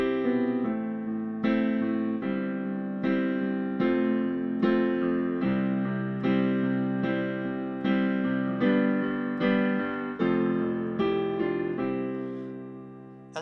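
Chorus of a song played on a single instrument, likely piano, with steady chords struck on each beat and a clear melody on top, close and moderately loud throughout with no voices.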